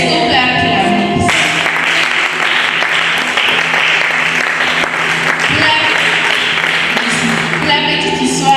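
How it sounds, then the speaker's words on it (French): Church congregation applauding and cheering at a French-language worship service, a dense, loud wash of clapping that swells in after a brief pause and holds steadily to the end, with scattered voices mixed in. "Est-ce qu'on peut acclamer?"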